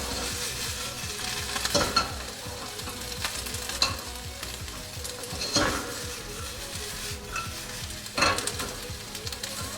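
Bell peppers sizzle in a hot pan while being stirred, a steady close frying hiss broken by about four louder scraping strokes of a utensil against the pan, with no talk.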